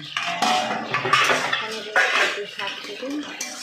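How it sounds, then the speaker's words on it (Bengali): A metal lid lifted off a cooking pot of taro leaves with poppy seed, giving several clanking, scraping knocks of pot and utensils, close and fairly loud, with no talk. "ঢাকনাটা আমি খুলে নিলাম"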